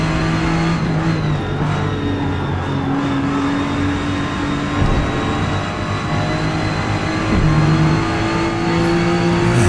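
A race car engine in Forza Motorsport revs under throttle, loud and close, its pitch climbing and dropping through gear changes in one continuous roar.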